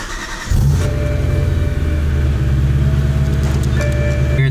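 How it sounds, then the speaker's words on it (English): A BMW E92 M3 engine cranks and fires, then settles into a loud, steady idle with a deep rumble and a faint whine, alone with no voices. "you just start the car."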